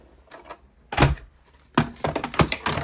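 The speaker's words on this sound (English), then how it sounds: "and my Stampin' Cut and Emboss machine" A Stampin' Cut and Emboss machine cranks a die-cut word through for a card, giving a few close mechanical clunks and a stretch of rapid rattling clicks.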